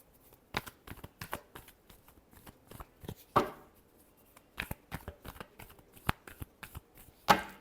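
Tarot cards shuffled by hand for a reading, a quiet, close series of sharp papery snaps and riffles in uneven bursts with brief pauses, with no one speaking.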